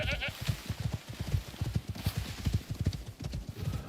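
Horses in the survival video game Icarus, a rapid run of hoof clip-clops close by with a brief bleating call near the start, steady and moderately loud without talk.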